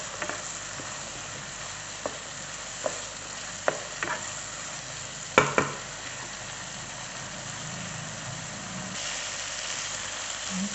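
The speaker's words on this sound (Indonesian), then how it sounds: "Ini kita tumis hingga bumbunya harum." Spice paste for chicken tongseng sizzles steadily in a pan, a continuous frying hiss broken by a few light clinks and scrapes of the stirring utensil, with no talk.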